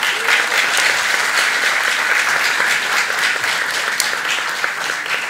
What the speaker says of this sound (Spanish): un fuerte aplauso para el Cholito